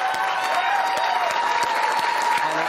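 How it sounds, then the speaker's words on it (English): Crowd applause for firefighters at a charity donation event, dense continuous clapping from many people, loud and even throughout, with some crowd noise mixed in. "I want to give you all an applause."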